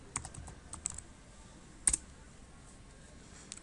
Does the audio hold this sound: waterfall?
no